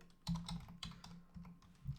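Keystrokes on a computer keyboard while entering a website address into a Bubble.io signup form, a quick irregular run of close, soft clicks with short pauses, no voices.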